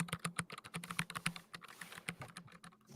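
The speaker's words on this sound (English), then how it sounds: "Oh, nothing better than a mechanical keyboard. A fresh mechanical keyboard." Rapid clacky keystrokes from a mechanical keyboard, close and crisp, in an uneven typing rhythm with no voices.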